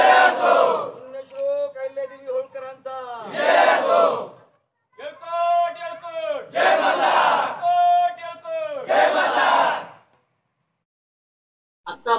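A Dhangar community crowd celebrating the renaming of Ahmednagar to Ahilyadevi Holkar shouts slogans in loud, rhythmic call-and-response bursts, pausing briefly before falling silent near the end.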